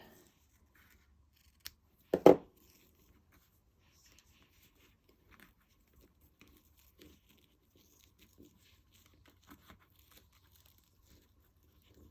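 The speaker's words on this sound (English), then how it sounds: "Let me get my scissors out and" A crisp scissor snip or two, close by, followed by near silence with faint rustling and light taps.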